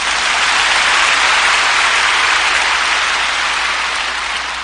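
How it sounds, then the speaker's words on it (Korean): A large congregation applauds loudly and steadily during a Korean-language church sermon, a dense, continuous wash of clapping that fades slightly toward the end. "한번 힘차게 박수합시다."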